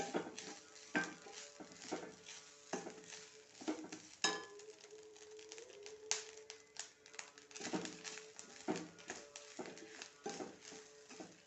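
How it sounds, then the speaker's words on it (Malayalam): Dry-roasting sambar ingredients in a pan, with a spatula scraping and stirring in irregular taps and scrapes. The sounds come close and fairly soft over a quiet background. "നന്നായി ഇളക്കി കരിയാണ്ട് വറുത്തെടുക്കുക"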